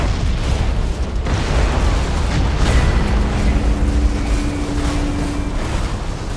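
Spaceship fleet weapons firing and explosions in the Battlefleet Gothic Armada 2 video game, a dense, continuous roar of booms and blasts with no break, loud and close, with a faint steady tone in the middle.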